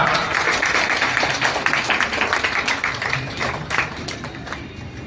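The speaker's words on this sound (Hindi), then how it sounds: "फिर जोरदार तालियां" Loud applause fills a school farewell ceremony for class 8 students, many hands clapping in a dense, steady burst that gradually thins out toward the end.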